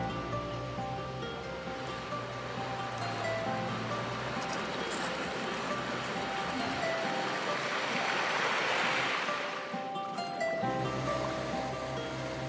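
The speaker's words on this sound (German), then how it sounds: "Eine erste Flutwelle voller Erde, Steine und Schwebstoffe aus der Donau bahnt sich ihren Weg." Floodwater from the Danube, laden with soil, stones and silt, rushes into a dry streambed in a floodplain forest, a steady broad roar of surging water that holds evenly throughout with no voices.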